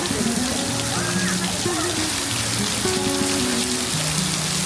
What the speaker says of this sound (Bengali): ততক্ষণে বৃষ্টি নামা শুরু হয়েছে।